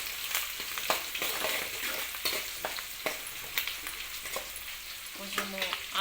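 Chana dal and seasonings frying and being stirred in a pan, a steady close sizzle broken by scraping stir strokes, with no one talking.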